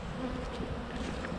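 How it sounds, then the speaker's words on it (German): Dense, steady buzzing of many honeybees crowding a hive entrance after the flap is opened during a February winter check, close and continuous with no talk. "Da sind einfach viel zu viele Flugbienen rausgekommen und haben ihre Pheromone da abgelassen."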